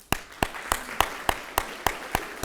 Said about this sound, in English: Round of applause for Nicole.